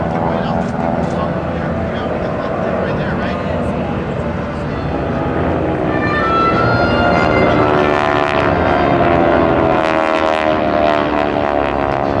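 GEICO Skytypers propeller aircraft flying at the 2011 Blue Angels Homecoming Airshow, a loud sustained drone with shifting pitch as the planes pass, heard under an announcer's commentary over the PA.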